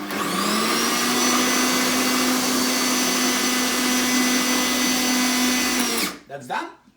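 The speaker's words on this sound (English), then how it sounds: "we're gonna put the blender back on" A blender whirs steadily and loudly for about six seconds while making hummus, then cuts off abruptly, leaving a brief rattle and a short voice.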